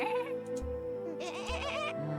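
Goat bleating in the video game Chimeraland: two short, wavering bleats close up, one early and a longer one midway, with a soft tonal game backdrop underneath.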